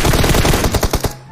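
Rapid automatic gunfire in the PUBG Mobile battle game, a loud burst of close shots that slows into a few separate heavy bangs before stopping, with no talk over it.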